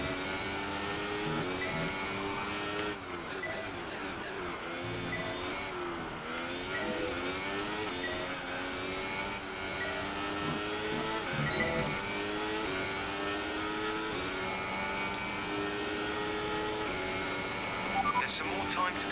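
Race car engine from the F1 2018 video game, a steady high-pitched whine rising and falling through gear shifts for the full stretch, with someone talking over it throughout.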